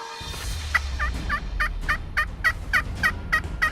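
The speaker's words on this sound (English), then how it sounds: "all of a sudden we had a hen yelping right back at us" A Rio Grande wild turkey hen in South Texas gives a run of about ten evenly spaced, raspy yelps, fairly close and loud against a low outdoor rumble.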